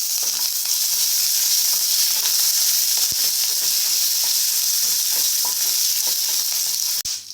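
Peanuts and curry leaves sizzling in hot oil in a pan, a loud, steady crackling hiss with occasional sharp pops and stirring scrapes throughout.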